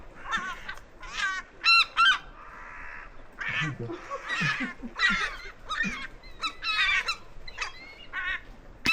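Seagulls call repeatedly at a busy bird feeding site, with loud, harsh, honking cries in a quick succession of bursts, fairly close, while other birds sound in the background.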